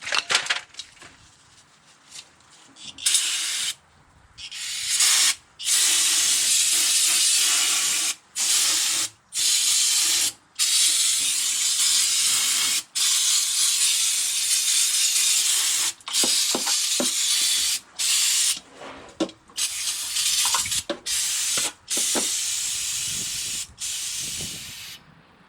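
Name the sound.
brake cleaner spray hissing onto differential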